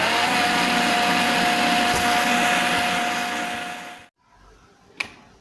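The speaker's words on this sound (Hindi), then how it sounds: "और अब इसको बंद करके फिर मैं ब्लेंड कर लूंगी।" Blender whirring steadily as it mixes an Oreo milkshake with cream and milk, a loud continuous motor drone with a high whine that cuts off abruptly near the end, followed by a quiet pause and a brief clack.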